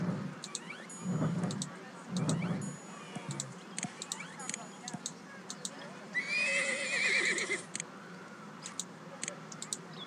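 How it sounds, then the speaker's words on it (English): A Przewalski's wild horse in Zoo Tycoon lets out one shrill, wavering whinny partway through, amid game clicks and ticks, after someone speaks in two short bursts. "Yeah, Przewoski's wild horse"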